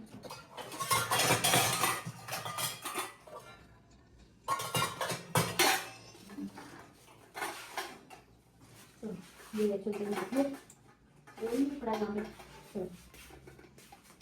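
Metal pots, bowls and utensils clatter and clink in a home kitchen in irregular bursts, close by, while someone talks over and between the handling.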